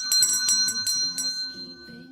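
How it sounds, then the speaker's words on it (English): A bell rings in a quick flurry of bright metallic strikes, each leaving a clear sustained ring that hangs on and fades, with a low murmur underneath. "There's a bell."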